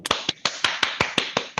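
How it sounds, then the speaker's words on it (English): A small audience at an open classroom event claps for a presenter, with about nine sharp, evenly spaced claps that sound close and fairly quiet. "Give applause for"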